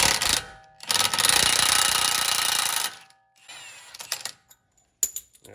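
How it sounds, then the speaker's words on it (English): A 36mm socket on a breaker bar or impact tool breaks loose the axle nut on a Chevrolet Malibu during hub and bearing work. It gives a loud, sustained mechanical burst about two seconds long, then a few quieter ratcheting bits and a sharp clack near the end. "So take our 36mm and we're going to break that loose here."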